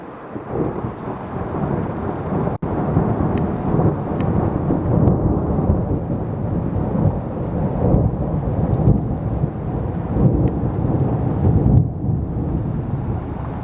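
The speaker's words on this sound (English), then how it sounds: "Yes, Thunder." Deep rolling thunder rumbles through a hailstorm, loud and sustained over a steady wash of rain and hail, with a sharp crack early on and no talking.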